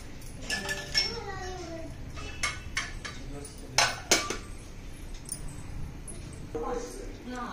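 A lid set on a pot of chicken pulao, with a few light metallic clinks and knocks of cookware scattered through the clip while a person talks over it.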